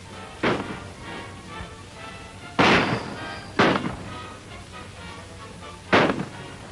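Several loud, sharp gunshots ring out in a 1938 western shootout, four distinct reports spaced irregularly over a quiet, hissy background with no talking.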